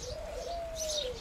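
Egyptian decorative pigeon cooing once in a single drawn-out, gently rising and falling call, close and clear, with faint higher chirps from other birds in a loft behind it.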